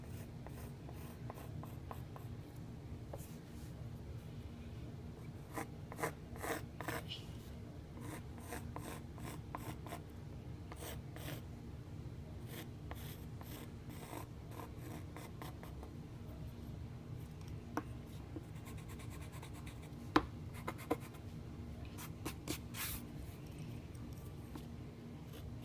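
A pencil lightly sketching on a canvas while a teddy bear painting is being drawn, giving a soft continuous scratchy rubbing with brief stroke bursts, close and steady, with no talk.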